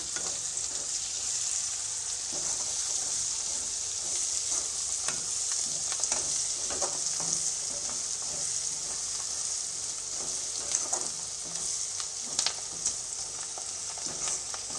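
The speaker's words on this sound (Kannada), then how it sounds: "ಇದಿಷ್ಟನ್ನು ಹಾಕಿ ಚೆನ್ನಾಗಿ ಮಿಕ್ಸ್ ಮಾಡ್ತಾ ಇದ್ದೀನಿ" Vegetable fried rice stir-frying in a pan with black pepper powder, garam masala and coriander leaves: a steady, close sizzle with scattered scraping and clicking from stirring, no voices.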